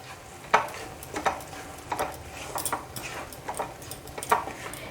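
Grated coconut is stirred with milk cream (malai) in a pan over medium flame for patishapta pitha filling, with repeated scraping and tapping of a spoon against the pan in an uneven rhythm over a soft sizzle.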